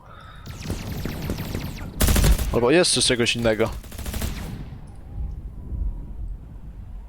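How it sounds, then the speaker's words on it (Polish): Rapid bursts of Alien Blaster fire in Krunker.io crackle in a loud cluster, with warbling electronic tones, while someone talks over the game action. "Nie wiem z czego on strzelał, chyba z tego Alien Blastera."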